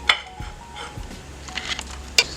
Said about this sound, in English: keep on stirring, and make sure to incorporate that cheese nice and well in there